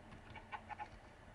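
Faint, short clucks from chickens in Minecraft pop up a few times over a soft steady background hum, with no talking.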